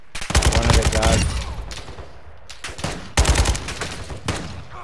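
Rapid automatic gunfire bursts from a Call of Duty Modern Warfare II match, loud and close, in several clusters with brief gaps between them.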